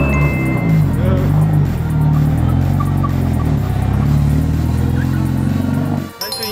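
Drift cars racing on an indoor track at a D1NZ drift event, a loud continuous engine roar with revving and shifting pitch that drops away abruptly near the end, crowd and voices blended underneath.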